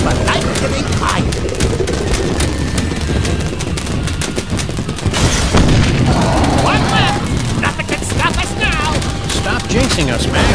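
Fireworks launching and bursting in the VR video game Sam & Max: This Time It's Virtual, a rapid string of sharp pops and booms with whistling rockets, loud and close, mixed with character voices talking.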